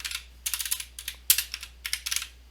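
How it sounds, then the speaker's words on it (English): A docker exec command typed on a computer keyboard: close, crisp bursts of rapid key clicks separated by short pauses, with no voices. "Now we type in docker exec"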